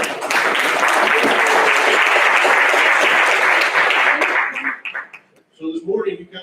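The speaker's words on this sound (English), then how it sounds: "Please give them a round of applause." Applause from a lunch audience at a university research park and innovation district summit, a dense loud wash of clapping that fades out near the end, followed by a few faint voices.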